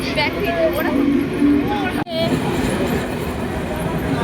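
A train arriving at Radhanagar railway station, a loud rolling rumble with squealing and whining tones up close, under people talking nearby.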